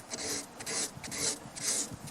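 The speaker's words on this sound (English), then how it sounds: "It's certainly coming off around the holes where I'm sanding" Sanding paint on a 1934 Pacific Model 107, a steady dry rasping scrape in repeated back-and-forth strokes, close and fairly quiet with no voices.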